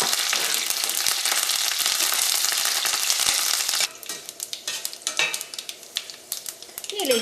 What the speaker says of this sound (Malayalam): ഇതിലേക്ക് നമുക്ക് ഉണക്കമുളകും വേപ്പിൻ്റെ ഇലയും ചേർക്കാം